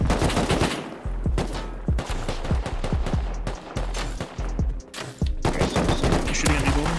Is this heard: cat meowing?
no